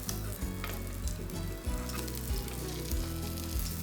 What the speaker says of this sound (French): je taille une très jolie escalope de foie gras que je fais poêler sans matière grasse à feu plutôt doux